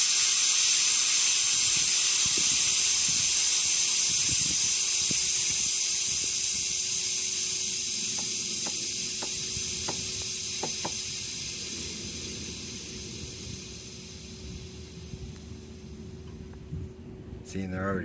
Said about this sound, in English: I'm gonna let the air out so you guys can see it.